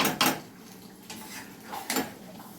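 A metal spatula scrapes and clinks against a small wok while chicken curry is sautéed, giving a few sharp, irregular scraping strokes over a faint background.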